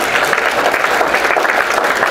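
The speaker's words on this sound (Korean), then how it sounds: "박수를 한 번씩 부탁드립니다" A crowd at a 62nd-anniversary commemoration of May 16 claps together in a dense, even patter that holds steady at full strength for a couple of seconds.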